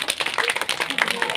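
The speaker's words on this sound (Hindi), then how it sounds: "आप लोगों ने मेरे साथ साथ ताली बजानी है।" An audience at a school annual function claps along in quick, uneven rhythm, a brief burst of many hands close by, with voices mixed in.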